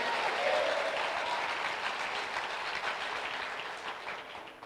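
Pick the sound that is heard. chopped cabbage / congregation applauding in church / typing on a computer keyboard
congregation applauding in church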